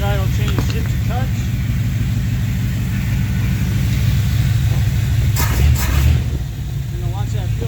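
1985 Chevrolet K20 truck engine idling with a deep, steady low rumble while the idle is adjusted, a voice talking over it throughout.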